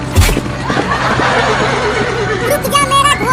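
A horse gives a brief whinny near the end, heard over a busy, noisy background.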